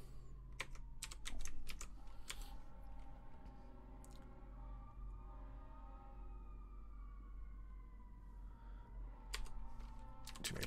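Someone types on a computer keyboard in quick clicking bursts at the start and again near the end, with quieter, sparser key taps and a faint low hum in between.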